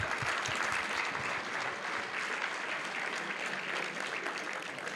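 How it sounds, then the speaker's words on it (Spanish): A church congregation applauds together, a dense, steady wash of clapping that holds at an even, loud level from start to finish, with no voices breaking through. "Den un aplauso al Señor."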